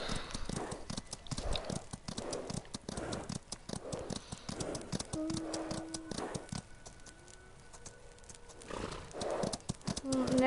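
Horse hooves clip-clop in a steady rhythm with an occasional whinny inside a video game, close and fairly loud, with game music tones and a person talking over parts of it.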